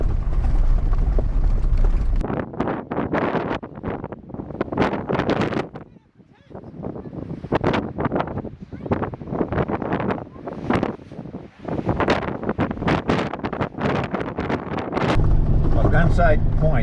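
Strong wind buffets the microphone at Gunsight Point, with roaring gusts swelling and dropping across the scene while a person talks throughout.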